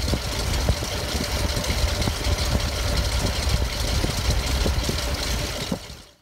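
A warmed-up 1966 Mustang GT V8 idles steadily at close range with a rough, lumpy pulse, then cuts off abruptly at the end.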